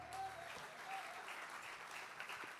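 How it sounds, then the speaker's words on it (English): A church congregation claps during an Easter service, a soft steady patter of many hands, fairly distant and faint throughout. "Let's clap for Jesus one more time"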